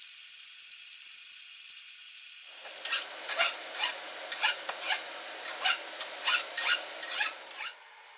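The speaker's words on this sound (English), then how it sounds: "I'm just going to take off the burrs on the base and put just a tiny bevel." Hand file rasping burrs off the steel base of a sledgehammer being made into an anvil, first a fast run of short strokes, then a slower series of about a dozen distinct scraping strokes, close and fairly quiet.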